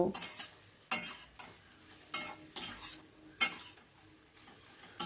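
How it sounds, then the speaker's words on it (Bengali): Spice paste with potatoes and bottle gourd fries in a pan under a soft sizzle, punctuated by about six sharp, regular clanks of a spoon stirring against the metal. "এবার অনবরত নাড়াচাড়া করে মশলাটাকে ভালো মতো কষিয়ে নেব।"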